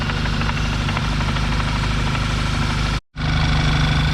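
A VW MK6 GTI engine idles with single mass flywheel rattle, a steady low throbbing hum with a fine rattling texture, loud and close, cut by a brief dropout near the end before resuming.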